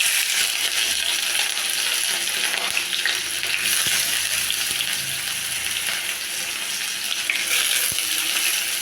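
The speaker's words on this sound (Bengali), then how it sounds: "দেখো এখন তেল গরম হয়ে গেছে, আমি এখানে এখন অল্প করে পেঁয়াজ কুচি ছেড়ে দেবো।" Chopped onion frying in hot oil in a home kitchen, a steady loud sizzle and crackle with occasional light clinks of a utensil, continuous throughout with no talking.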